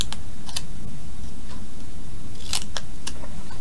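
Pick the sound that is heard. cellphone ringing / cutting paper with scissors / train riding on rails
cutting paper with scissors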